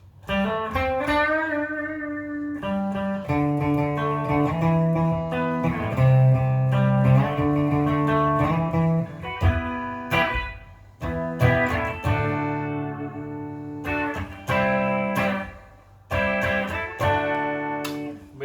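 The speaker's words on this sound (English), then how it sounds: "Let's see how the clean tones sound on this one." Clean electric guitar on a PRS bridge pickup played alone, bright and twangy, with strummed chords and single-note runs ringing out over several bars.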